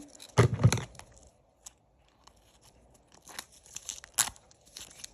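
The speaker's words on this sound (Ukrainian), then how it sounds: "Я не знаю, як це відірвати." A paper surprise packet is torn open in sharp close bursts, first a loud rip, then scattered crinkles and a few more short tearing pulls.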